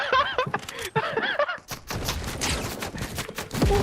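Sniper gunfire rings out in an online shooter game, sharp cracks and bursts following a stretch of electronic chirps, with dense gunfire filling the second half.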